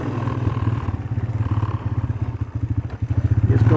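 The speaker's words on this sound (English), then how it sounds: "The four-wheeler's acting up too," A four-wheeler ATV engine running rough and uneven nearby, loud chugging pulses that stutter and surge on a property trail, with no talking.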